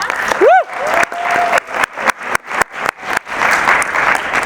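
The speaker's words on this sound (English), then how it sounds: "let's give them a round of applause" Audience applause at a theatre production, a broad wash of clapping that swells and holds steady, with a spoken voice rising over it near the start.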